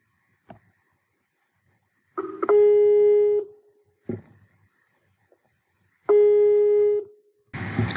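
A telephone call being dialed gives a short tap, then two long electronic ring tones separated by a pause. The tones are loud and close, and no voice is heard.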